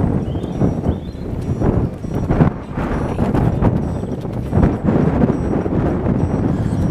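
Horse hooves clip-clop steadily on a road outdoors, moderately close, with constant wind rumble over the microphone throughout.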